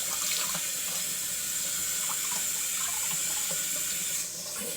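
A sink tap runs steadily with a broad, continuous hiss of flowing water, close and fairly loud, dipping slightly near the end as the flow changes.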